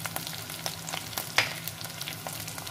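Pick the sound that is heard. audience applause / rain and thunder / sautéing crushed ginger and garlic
sautéing crushed ginger and garlic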